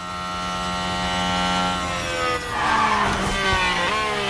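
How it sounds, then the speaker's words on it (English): A race car skids and crashes in F1 Manager 24 during a wet race, with engine drone and tyre noise building to a rough scraping impact midway through. "Gio comes into the pits as Zhou has crashed on turn 11"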